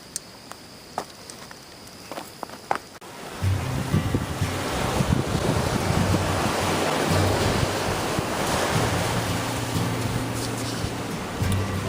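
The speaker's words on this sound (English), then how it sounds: "Hello, I'm here by the sea." Ocean waves at the seaside on an April morning in Nova Scotia, starting faint and swelling after a few seconds into a steady, close wash of surf with heavy wind buffeting the microphone.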